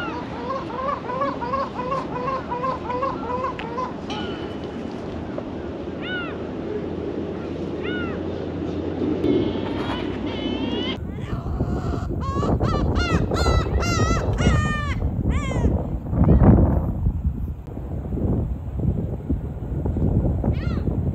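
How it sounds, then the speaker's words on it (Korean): Seagulls cry loudly near the coast of Hwangsando, a dense chorus of overlapping wailing calls that swells into heavy clamor under steady wind or engine noise. "갈매기들 엄청 울어요 지금"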